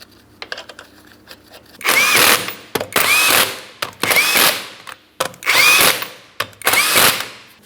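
Power tool spinning on the 19mm lug nuts of a Cadillac CTS rear wheel, five loud close bursts of whirring in a steady on-off rhythm, each ending with a rising whine, with faint clicks between.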